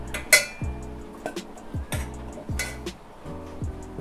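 Boiled durian seeds are tipped into a bowl, giving a series of sharp clinks and knocks of utensil against dish, with short ringing tones between the taps and nobody talking.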